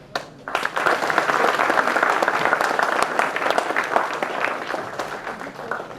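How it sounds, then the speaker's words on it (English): Audience at a film festival panel session bursts into loud, sustained applause for several seconds, dense and steady before easing slightly toward the end. "a session post-lunch hours surely calls for a more energized and a louder clap"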